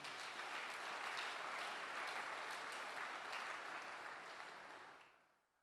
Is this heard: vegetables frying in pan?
no